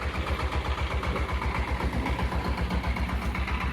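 A small Chinese tractor's diesel engine idles steadily, its low, rhythmic chugging pulsing evenly throughout at moderate volume.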